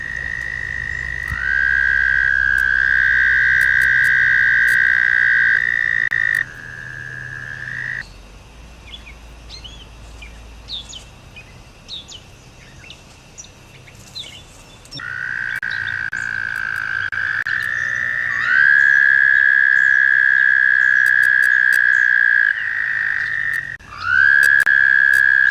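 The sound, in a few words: toad calling with its vocal sac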